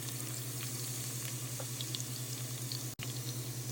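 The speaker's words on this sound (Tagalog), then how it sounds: "kapag mainit na yung mantika, lagay na natin ang ating luya" Garlic and ginger fry in hot oil for a Thai massaman fish curry, a steady close sizzle with faint crackles throughout and one brief dropout near the end; no talking.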